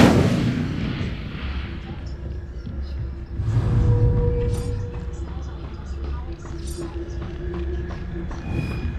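An Incendio fire spell is cast in the video game Hogwarts Legacy: a sharp burst opens the clip, followed by a whooshing, crackling surge of flame a few seconds later, with game ambience and metallic clanks trailing after.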